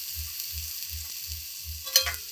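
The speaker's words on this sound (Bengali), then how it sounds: "এবার আমি সমস্তগুলিকে ভালোভাবে ভেজে নেব।" Onion, garlic, ginger and chopped green chilli fry in a pan with a continuous bright sizzle, while a spoon scrapes and stirs in a regular rhythm of soft thumps, ending with a sharp clink.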